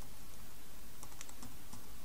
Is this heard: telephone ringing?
no